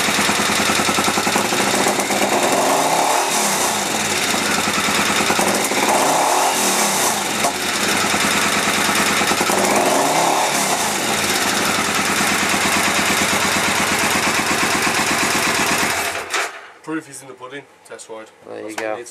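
A 2002 Triumph Bonneville America motorcycle with freshly balanced carbs is ridden on a test ride under heavy, loud wind roar. Three rising rev sweeps build through the gears before the noise drops away abruptly near the end.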